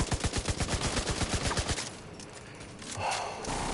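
Gunfire at an enemy in The Division 2 at Tidal Basin: a rapid automatic burst of evenly spaced, punchy shots for about two seconds, then a quieter stretch of distant rumble.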